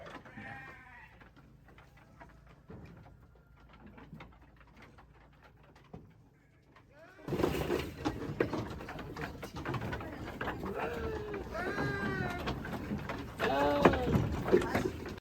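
Goats in a goat pen bleat over and over, starting faint and sparse, then growing into a loud, crowded chorus of wavering cries with people talking nearby.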